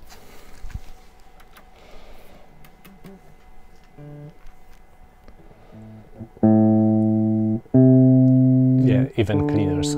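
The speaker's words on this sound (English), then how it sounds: "What if we try an electric guitar?" Faint handling noise and quiet tones, then two sustained electric guitar notes ring out loudly near the end, each cut off abruptly.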